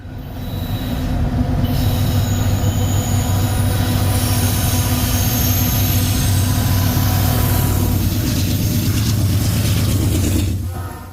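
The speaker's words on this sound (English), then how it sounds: "as soon as the train reaches the top of the grade" A Norfolk Southern train rolls past at the top of a southbound grade on the Punkin Vine line near Ferrum, a loud, steady rumble of railcars with squealing wheels and engine drone throughout, fading slightly at the end.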